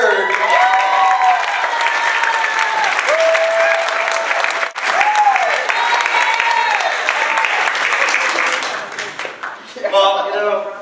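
An audience at a Stand Up For Mental Health comedy show applauds comic David. Loud, sustained clapping runs throughout with cheers and voices rising over it, dipping briefly near the end.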